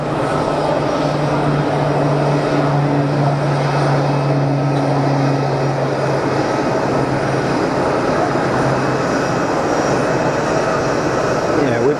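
A Pilatus PC-12 turboprop taxis out at Geneva Airport, its steady engine drone and propeller hum holding loud and continuous under a low tonal whine, with airport background noise throughout.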